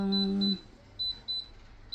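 A blender's control panel gives a series of short, clear electronic beeps as its timer is set for a mango milkshake, with a low tone at the start and several separate bleeps spaced through the rest of the moment.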